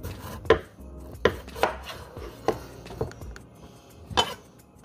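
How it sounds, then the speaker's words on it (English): Knife cutting turkey leftovers on a board during a toddler's cooking lesson, seven distinct chopping thuds spaced unevenly over a few seconds, close and fairly crisp with no voices. "Where's your knife? Whoops, you can cut this one."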